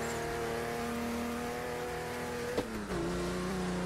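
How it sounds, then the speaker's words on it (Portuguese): A V8 car engine in the Street Legal Racing Redline video game holds a steady, droning idle-to-midrange tone, then its pitch shifts sharply with a brief transient as the revs change and settle. "O barulho do motor me assusta."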